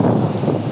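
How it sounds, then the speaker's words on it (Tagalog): Strong wind during heavy rain near an MTR station, a dense continuous roar buffeting the microphone for under a second, loud and close with no voices. "Ang lakas pa ng hangin."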